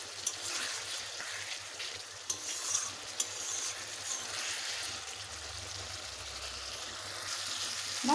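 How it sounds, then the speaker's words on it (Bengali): Potato chunks and spices sauté in hot oil for a fish-and-potato curry, making a continuous soft sizzle with repeated spatula scrapes and stirring, close by and without voices. "মশলা আলু ভালোভাবে কষে নেওয়া হয়ে গেছে"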